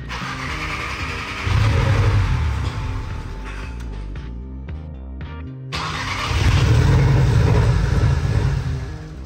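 Car engine with a freshly rewired starter cranks, catches and runs, its low mid-pitched note swelling into loud revs, dipping briefly, then revving hard again alone.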